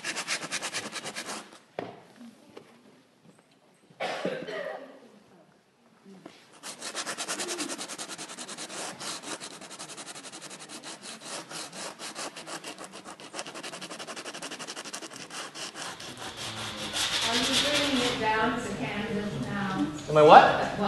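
Sandpaper rubbed across a painted canvas makes rapid, rhythmic scratchy strokes in close bursts, with people talking between and over the rubbing.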